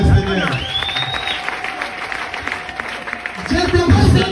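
A church congregation claps and cheers in a broad, sustained wash of applause, while a voice speaks over it at the start and end.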